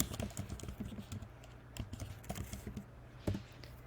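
Keys clatter on a computer keyboard as a web address is typed, a quick irregular run of close, crisp taps with short pauses, alone and fairly quiet.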